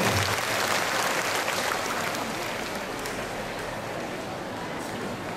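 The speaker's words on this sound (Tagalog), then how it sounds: "Yung mga nakakumpleto, pumalakpak." A church congregation claps at a Simbang Gabi dawn mass in 2010, a dense wash of many hands that stays even and fairly loud, slowly tapering off.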